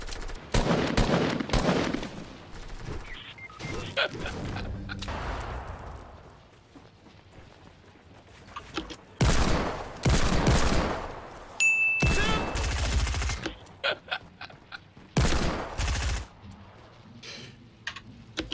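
Video game gunfire from a bolt-action sniper rifle and an SMG comes in loud, sharp bursts and rapid volleys, split by quieter gaps with faint keyboard clatter.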